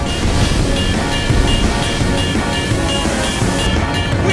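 Ocean surf from Assassin's Creed 3 rolls in a steady, loud wash of breaking waves with airy wind noise, continuous and close, with no voices over it.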